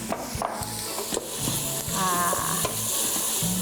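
Chicken and vermicelli noodles for Filipino pancit sizzle in a hot pan while a utensil scrapes and stirs with irregular clacks, close and fairly loud.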